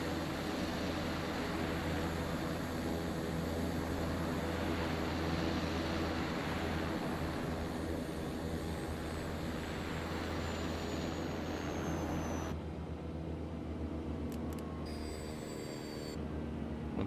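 Black Square Starship turboprop engines winding down in a flight simulator: a steady broad engine roar with high whine holds for about twelve seconds, then drops away abruptly, leaving fading tonal whines and a quieter hum.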